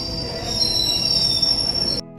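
A passenger train's wheels squeal on the rails on the way to Alappuzha: a sharp, sustained high-pitched screech rides over a low rolling rumble, then cuts off abruptly after about two seconds.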